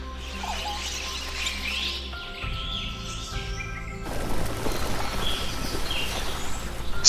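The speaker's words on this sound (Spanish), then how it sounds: "Cuando los loros aterrizaron, toda la pared pareció cobrar vida." Parrots flocking onto a vertical wall in the wild, with a busy mix of chirps and calls and faint wing flutter, growing denser and louder partway through over a steady low background rumble.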